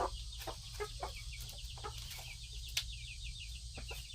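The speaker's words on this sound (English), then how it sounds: "You're being bad chickens. Keeps making this noise, this raspy noise. Are you trying to crow?" A young rooster, one of a backyard flock of new chickens not yet laying, makes rough, raspy attempts at crowing amid repeated clucks and bird chatter, moderately near over a steady low background hum.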